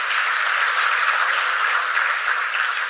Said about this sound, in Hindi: बजाओ ताली इन लोग के लिए।